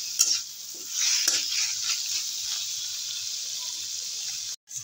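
Chopped cabbage and bottle gourd shoots are stirred in a frying pan, giving a close, steady sizzle with a few scraping spatula strokes before a brief cutoff.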